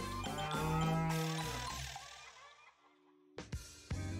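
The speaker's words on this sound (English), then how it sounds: "Cause Farmer McKeg's romping cows make the best BS." Cows mooing on a farm, a long, loud, drawn-out moo that slowly fades, then a couple of short sharp knocks close by.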